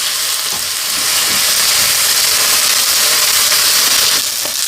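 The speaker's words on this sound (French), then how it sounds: "mettre de l'huile très peu dans une poêle et venir y placer nos steaks qu'on va faire vraiment griller à feu très vite" Beef steaks sear over high heat in a pan with very little oil, producing a loud, steady, hissing sizzle that stays constant throughout, close by with no talking.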